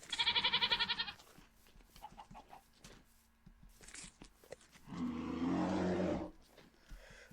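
A goat in the Minecraft video game bleats in a quick wavering burst, followed by scattered soft game clicks and rustles, then a longer, lower bleat, all fairly faint.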